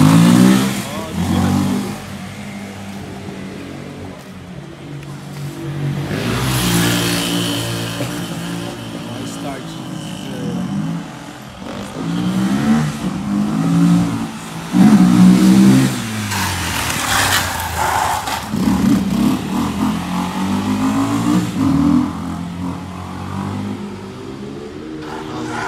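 A Honda XRE motorcycle engine revs up and down repeatedly as the rider starts a wheelie on a street, loud and close, while someone talks over it.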